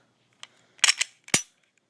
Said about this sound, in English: Dry fire it in a safe direction.